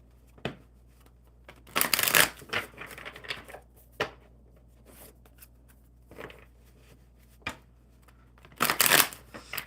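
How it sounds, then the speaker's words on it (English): Oracle cards being shuffled by hand in bursts of crisp riffling and snapping, with two long flurries and several short taps and slides between them, close and fairly quiet with no talk. "let's get these cards shuffled"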